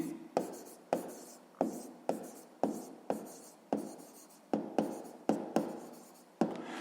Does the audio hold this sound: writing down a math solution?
yes